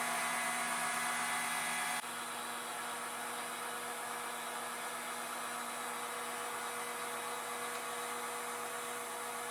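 Avid Armor Cellar Series Reserve chamber vacuum sealer pumping down a chamber of marinating meat, a steady motor hum that drops slightly in level after the first couple of seconds and then runs on evenly and quietly.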